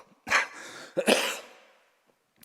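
Two harsh coughs close by, a short one then a longer rasping one that trails off, followed by quiet and a faint click at the end.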